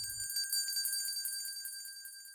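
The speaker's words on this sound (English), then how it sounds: "The creak of teak is interrupted by the chime of a bell." A small bell chimes with a clear, sustained high ring that repeats in quick tinkling strikes and slowly fades, after a brief low creak at the start.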